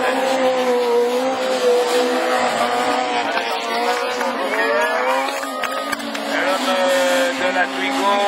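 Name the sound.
rallycross Super 1600 cars racing, including a Renault Twingo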